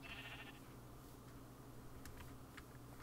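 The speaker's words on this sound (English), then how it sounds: "There are hella sheep up in here." Sheep bleat in the Minecraft video game: one short bleat near the start, then faint, scattered clicks over a steady background hum, with no speech.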